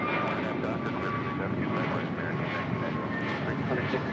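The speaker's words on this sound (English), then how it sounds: "That was American 2646 departing to Philly on an A321neo." An American Airlines Airbus A321neo jet departing from a runway at LAX produces a loud, steady broadband engine roar that fills the whole stretch, with faint talk underneath.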